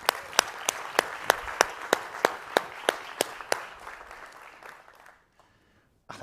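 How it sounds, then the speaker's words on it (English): Conference audience at a future forum in Dubai applauds: a steady rhythm of sharp, evenly spaced claps over a broad wash of applause, thinning out after about four seconds and ending in near silence. "Give Sahir a round of applause"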